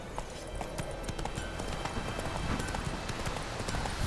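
Clip-clop of Roach, Geralt's horse, trotting in The Witcher 3 on PS5, a steady run of hoofbeats over a dense, continuous background of game sound, with no talk.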